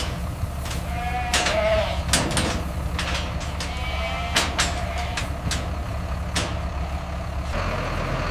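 Goats bleat repeatedly on a commercial goat farm, several short loud calls overlapping at close range above a constant low engine rumble from a nearby vehicle.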